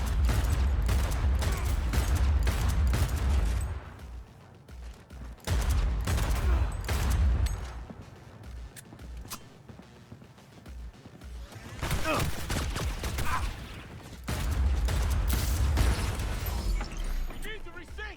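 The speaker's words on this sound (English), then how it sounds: "Firing at close range!" Close-range gunfire in Cyberpunk 2077 comes in dense, rapid bursts of loud shots separated by short lulls, with explosive pops and mechanical clatter mixed in and voices talking throughout.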